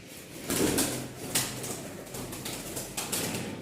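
Rajshahi Giribaz pigeons coo close by with a few wing flaps and rustles, the low murmuring calls repeating over a quiet background.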